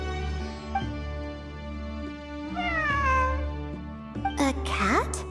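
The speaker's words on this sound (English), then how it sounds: "It really is a cat." A cat meows repeatedly in Genshin Impact, the meows standing out above a sustained game music bed, with a sharper, rising cry near the end.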